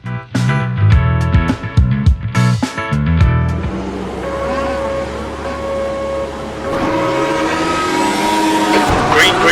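Race car engines roar at the start of a race at Watkins Glen in the Automobilista sim, first a busy burst of clashing revs, then a steady loud drone with a rising whine as the field pulls away toward the first corner.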